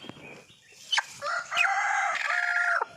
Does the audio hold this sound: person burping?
no